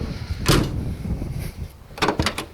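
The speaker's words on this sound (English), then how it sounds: "rear door opens" The rear door of a 1952 Chevrolet is opened, giving a short metallic latch click early on and then a few quick clunks and rattles near the end, heard close against a low background hiss.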